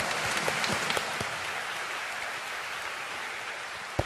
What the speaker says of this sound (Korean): Let's give a big hand to our true parents.